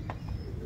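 A teddy pigeon from a Lahore loft gives a single short, soft coo, close by, over a low background rumble.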